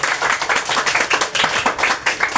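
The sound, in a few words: congregation clapping hands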